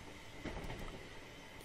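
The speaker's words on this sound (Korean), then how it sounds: "신칸센이라는 거다." A Shinkansen bullet train runs along the track in a video game, a faint, steady rumbling roll with soft clattering under a constant wash of noise and no talk.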